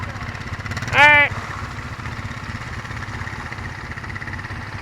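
A four-wheeler ATV engine idles with a steady low, even rumble close by, broken once by a short high whistling tone near the start.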